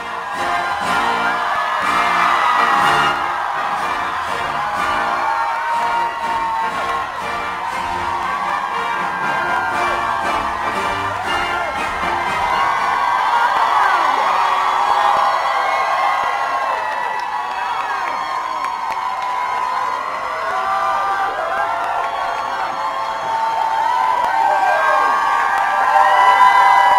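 A large crowd inside the main venue of a Kamala Harris Planned Parenthood rally marking the Roe v. Wade anniversary cheers, whoops and yells continuously, a loud, dense roar of many voices that swells and stays strong throughout.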